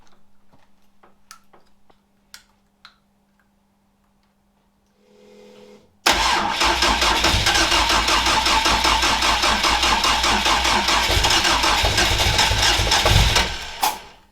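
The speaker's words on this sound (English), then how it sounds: "I'm just going to go for first start now." A Mk2 Ford Escort Mexico with a newly fitted upgraded engine starts for the first time. A few faint ticks and a short crank come first, then the engine catches and runs loud and close, before dropping off near the end.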